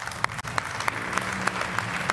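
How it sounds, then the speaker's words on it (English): Audience applause for a rider at an Aprilia Racing MotoGP team presentation, steady clapping lasting about two seconds with a few sharper claps standing out, fairly close and moderately loud. "I ask an applause for Andrea."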